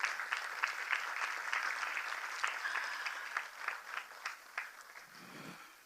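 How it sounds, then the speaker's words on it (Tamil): Audience applause at a Bharatanatyam dance event, a dense crowd of clapping hands that rolls steadily and then thins toward the end. "அவங்களுக்கு ஒரு பெரிய கைத்தட்டை கொடுத்துருங்க."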